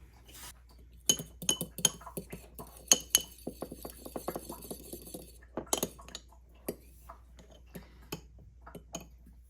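Egg yolks are beaten in a bowl, giving a run of quick, bright clinks and taps of a utensil against the bowl, irregular and close, with short pauses between bursts.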